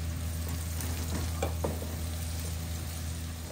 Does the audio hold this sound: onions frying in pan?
yes